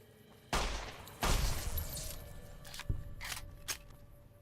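Gunfire in the video game Fallout New Vegas: a couple of loud, close shots with ringing decay, followed by a few fainter pops and clicks.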